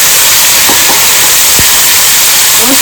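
Spice paste with chicken masala, white sesame and homemade masala hitting a hot pan for egg curry, a loud, harsh continuous sizzle and hiss close up, with a few faint clicks underneath.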